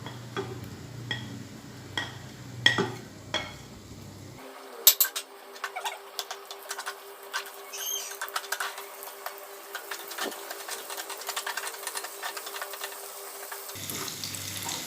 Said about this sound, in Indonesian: Kita goreng bawang merah,